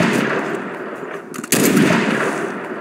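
Rapid gunfire crackles nonstop in the Mud and Blood video game on the St Lo level, a dense, loud barrage of shots that briefly dips and then surges with a sharp, heavier burst midway, with no voices.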